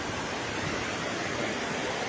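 Water rushing through the gates of the Gandak canal barrage on the Narayani River at the Nepal–India border; a dense, steady roar of falling water with no voices.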